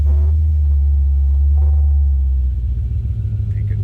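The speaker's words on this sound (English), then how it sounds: "Let's go ahead and fire this up so you can hear it run" A 1990 Chevrolet Corvette ZR1 idles close by with a deep, steady low rumble and a faint whine over it, with no voices.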